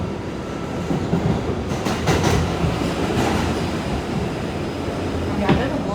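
Ride aboard an R211A D subway train on the Sea Beach line: a steady rumble with clattering wheels, rhythmic rail-joint clicks and bursts of higher rattling. Faint speech can be heard under the noise.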